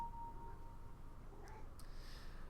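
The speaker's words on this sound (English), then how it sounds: "Sorry for cat sounds, but he's happy or something." A house cat gives a couple of short, faint meows, somewhat distant, over a steady low background hum.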